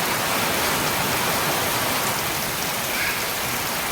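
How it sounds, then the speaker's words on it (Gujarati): Rain driven by strong wind over a farm with mango trees makes a constant, loud hiss that holds steady from start to finish with no voices. "વરસાદ આવે પવન આવે છે."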